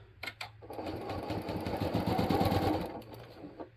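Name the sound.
sewing machine stitching quilt pieces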